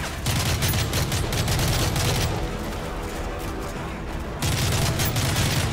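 Dense, continuous automatic gunfire from Call of Duty Modern Warfare 3 rattles loudly through the whole stretch, easing briefly in the middle before surging back at full intensity.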